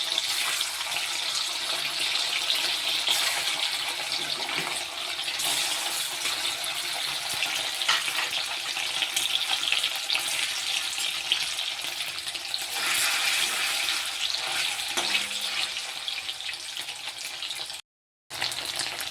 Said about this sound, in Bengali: এখন আমি পনিরটাকে ভেজে নিচ্ছি